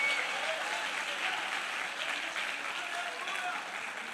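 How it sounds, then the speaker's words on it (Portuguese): A church congregation applauds during a worship service, a dense, sustained clapping that fills the room evenly from start to finish. "dá uma salva de palmas ao Senhor"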